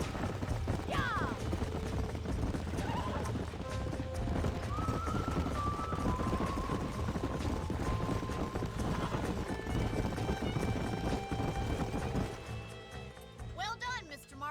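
Horses gallop in the Western video game Red Dead Redemption, with steady clip-clop hoofbeats under game music and voices, plus a couple of sharp whinnies near the start and at the end.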